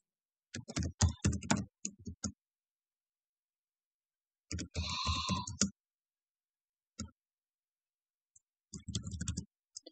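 Computer keyboard typing while entering passenger details for an Indian rail ticket booking, heard as short bursts of quick clicks separated by pauses and gaps of silence.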